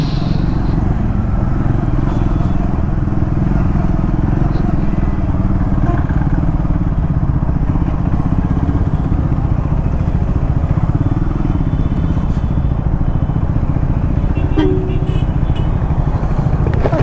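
A Triumph Scrambler 400X motorcycle engine revs loudly and continuously up close, a steady rough roar that holds for the whole stretch.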